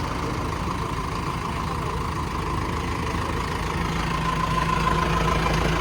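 A Mahindra tractor engine idles throughout, a continuous low rumble with a constant mid-pitched drone, close and unchanging, with no voices.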